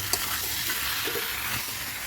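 A spatula stirs chicken through hot spices in a pan, giving a steady close sizzle with soft scraping strokes that carry on without a pause.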